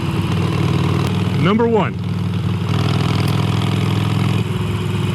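A 2017 Harley-Davidson Iron 883 motorcycle idles with a steady low rumble beneath a voice, which briefly rises in pitch before settling.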